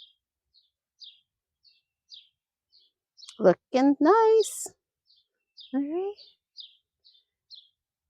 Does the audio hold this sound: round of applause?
no